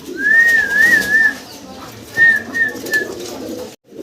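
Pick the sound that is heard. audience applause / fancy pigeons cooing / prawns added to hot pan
fancy pigeons cooing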